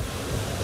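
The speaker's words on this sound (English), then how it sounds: "Still great windy conditions." Steady roar of wind and breaking water at sea aboard a racing sailboat in the Vendée Globe, broad and unbroken, with buffeting noise across the microphone.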